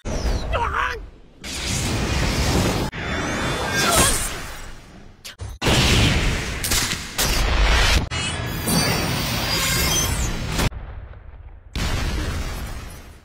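Loud blasts and crashing impacts in rapid succession, with booming bursts and whooshing debris over dense, chaotic noise.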